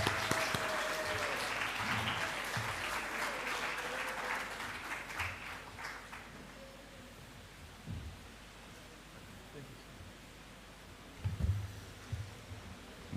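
An audience at a teachers' college research day claps steadily for a speaker, loud at first, then thinning out to scattered claps and a few soft thumps over about thirteen seconds.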